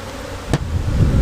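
Honey bees buzz around a hive as rain moves in, a steady agitated insect drone close by, with one sharp brief burst partway through.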